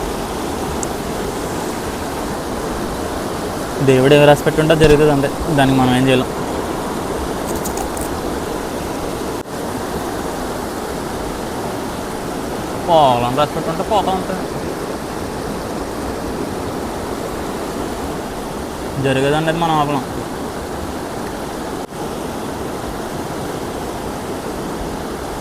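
A forest stream near a jungle campsite rushes steadily in a constant hiss, while a voice speaks in short bursts over the water.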